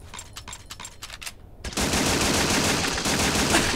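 A gun in a Call of Duty–style shooter fires in several short bursts, then breaks into a loud, continuous stream of rapid automatic fire, close and harsh.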